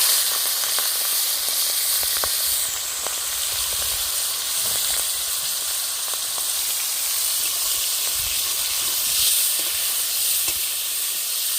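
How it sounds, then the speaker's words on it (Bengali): Prawns fry in hot oil in a kadai, a wok-style pan, with a continuous loud sizzle and hiss, nearby and steady, dotted with small crackles and pops. "চিংড়ি মাছগুলো লাল করে ভেজে নেব"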